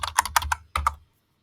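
Fingers type on a computer keyboard in a short, close run of about eight crisp keystrokes in two quick groups, then fall silent.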